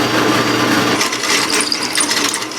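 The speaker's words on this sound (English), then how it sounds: "we're just gonna pop a hole in this guy with the drill press." A drill press boring a hole through a steel storage rack in a workshop, a loud continuous whining grind with scraping metallic texture, close and alone without talk.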